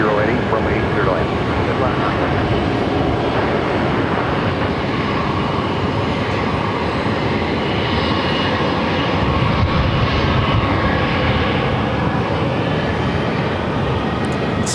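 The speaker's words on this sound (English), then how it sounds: "following an Airbus 1 mile final with 1080 from 8 clear to land" An Airbus A321neo airliner on short final to land at Phoenix Sky Harbor, its engines a steady, loud broadband roar that holds throughout, with a voice talking over it.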